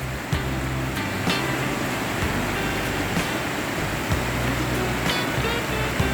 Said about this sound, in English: But look at this nice little waterfall area.